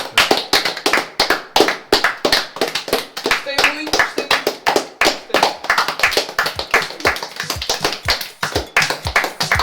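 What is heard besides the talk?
people clapping for themselves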